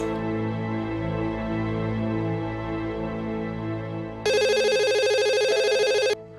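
A telephone in an office rings with a bright, harmonically rich electronic tone, one loud burst of nearly two seconds that cuts in sharply over a sustained musical background and then ends, with no voices.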